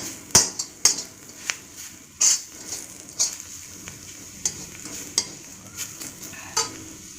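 A spoon stirs chili powder into an egg and tapioca mixture in a pan for Kerala street-food mutta kappa, making repeated sharp metallic scrapes and taps over a soft, steady sizzle.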